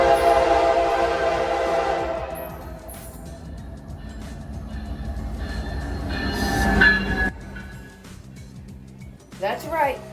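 A Piedmont passenger train led by an F59PH locomotive rumbles past with a long, loud horn blast at the start, then steady rolling wheels and a brief squeal near the end.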